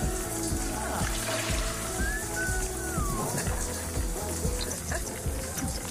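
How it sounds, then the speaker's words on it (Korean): A shower runs steadily in The Sims 4, a constant wash of falling water beneath a looping rhythmic music bed, with a voice briefly audible over it. "샤워를 하고 있어"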